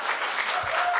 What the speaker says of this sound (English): please give another rounding applause to our students